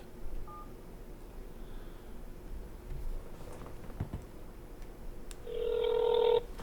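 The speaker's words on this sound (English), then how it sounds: "I'm just gonna call you over the phone." Telephone keypad tones sound as a call is placed: a brief tone early on, then a louder sustained dialing tone near the end over quiet, rustling background noise.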